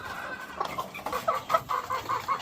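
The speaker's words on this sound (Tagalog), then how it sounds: "Ito yung pangalawang inahin na pwede nating hiramin dito sa Emery Game Farm." A breeding hen at Emery Game Farm clucks close by in a steady run of short, repeated clucks with no talk over it.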